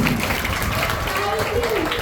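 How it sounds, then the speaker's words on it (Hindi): An audience at a community health awareness program applauds in a dense, continuous wash of clapping. The applause sounds full and steady throughout, with a voice faintly underneath. "ताली बजा दीजिए"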